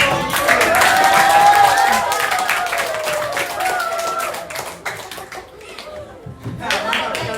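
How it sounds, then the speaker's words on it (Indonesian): A classroom group of students applauds with a burst of loud, dense clapping that gradually thins and fades, with voices and cheers mixed in. "tepuk tangan untuk kelompok"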